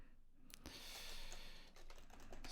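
Someone types quickly on an unfamiliar computer keyboard while editing code, a close, dense run of key clicks with a short pause partway through.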